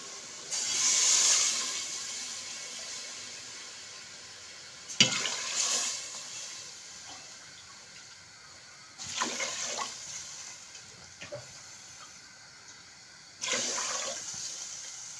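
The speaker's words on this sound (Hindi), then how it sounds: "अब ना हम इसमें पानी ऐड" Bowls of water are poured into a pot of fried masala while chickpea rice is cooked: four separate rushing splashes, each surging and then trailing off, with quiet simmering in between.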